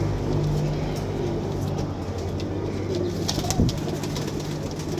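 Rain-wet pigeons for sale coo softly against a steady low background hum, with one brief flutter near the end and no talking.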